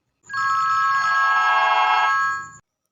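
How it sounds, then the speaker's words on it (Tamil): A telephone rings once in a comedy scene, a steady bright electronic ring lasting about two seconds, loud and alone before it cuts off. "எனது மறுபடியும் ஃபோன் அடிக்குது"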